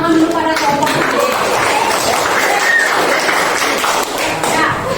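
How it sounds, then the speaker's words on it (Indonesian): A classroom full of students applauds group 7, a dense, steady wash of many hands clapping close by, holding evenly for several seconds with a slight dip near the end. "Beri tepuk tangan dulu pada kelompok 7."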